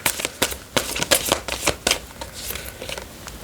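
Tarot cards being shuffled up close: rapid, crisp riffling and slapping bursts in an uneven rhythm, with no talking.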